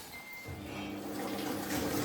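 Water runs steadily into a Samsung 7 kg washing machine, a continuous rushing fill noise that holds at a moderate level and swells slightly toward the end, with no talk.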